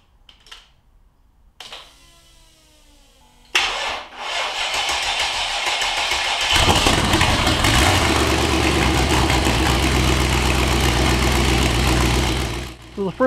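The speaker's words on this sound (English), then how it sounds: "I'm just gonna start the engine for a few seconds anyways." A Mercedes E55 engine cranks and fires, then runs on at a loud, steady, slightly rough idle close to the microphone, after a few faint knocks and handling sounds at the start.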